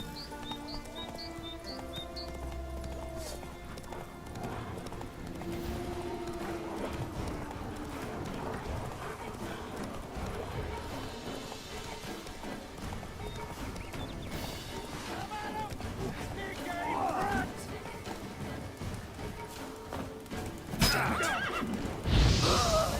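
A horse in The Witcher 3 gallops with a rapid clip-clop of hooves and lets out loud neighs and whinnies, with game music and a voice talking over it.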